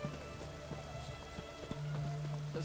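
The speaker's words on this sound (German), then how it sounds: "Es regnet sicher nicht mehr lang." Soft, steady rain patters continuously at a low level, with no voices, in the video game The Witcher 3: Wild Hunt.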